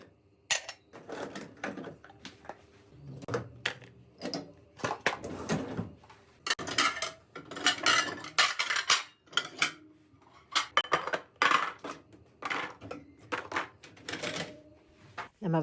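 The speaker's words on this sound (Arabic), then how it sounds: "احط المواعين اللي انتوا شايفينها ديت في الغساله" Dishes and cutlery being loaded into a dishwasher, with irregular clinks, clatters and knocks of plates and utensils coming in bursts and pauses, close up in a home kitchen.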